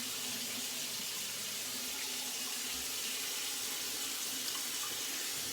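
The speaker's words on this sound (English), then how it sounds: "Gonna rinse this off." Tap water runs in a steady, even hiss and splash while shaving cream is rinsed off under it, close and constant, with no voices.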